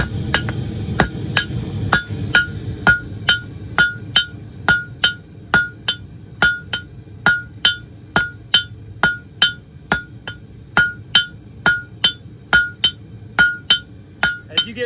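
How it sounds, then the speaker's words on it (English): Hammer making angled strikes on hot steel held over an anvil edge to taper it, a steady series of about thirty sharp ringing clangs, evenly paced and close. "I'm going to start by putting it over the edge of the anvil and doing angled strikes"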